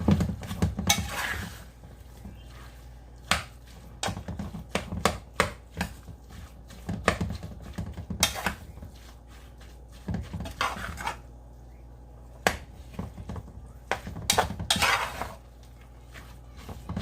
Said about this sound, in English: this pot is not flat, so it wobbles, which I don't like that